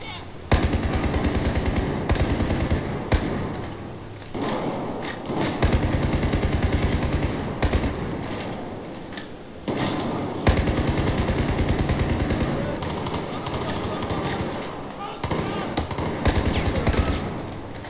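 Sustained automatic gunfire in the video game Battlefield 4 rattles in loud rapid bursts with short breaks between volleys, dense and close, with faint voices under the shooting.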